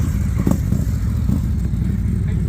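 A Harley-Davidson CVO motorcycle at a dealership idles with a deep, throbbing exhaust rumble, steady and close, with a few brief pops and clatter on top.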